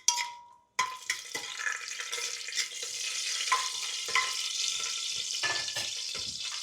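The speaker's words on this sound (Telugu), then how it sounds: "ఆయిల్ వేడెక్కిన తర్వాత 1 ఇంచు దాల్చిన చెక్క, అలాగే 4 లవంగాలు, 2 ఎలాచి, 2 మరాఠీ మొగ్గ, 1 బిర్యానీ ఆకు వేసుకొని ఒకసారి వీటిని కలుపుకుందాం" Cinnamon, cloves, cardamom, marathi moggu and a bay leaf sizzle steadily in hot oil and ghee for tomato pulao, with a short quiet gap before the frying starts and scattered clinks of stirring throughout.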